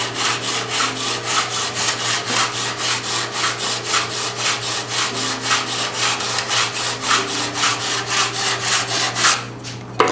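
Close, loud hand sanding with 120-grit sandpaper: rhythmic back-and-forth strokes rasp across wood at a steady pace, roughly four per second, before stopping near the end.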